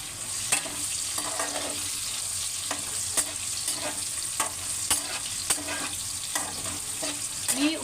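Green chillies and cumin fry in a pan for sago khichdi, a steady close sizzle broken by regular scraping stirs of a spoon.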